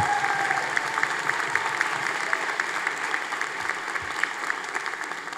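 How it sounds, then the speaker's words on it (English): Sustained applause from a large audience at a university commencement ceremony, dense steady clapping that stays loud and even throughout with no talking over it. "another big round of applause for all of them"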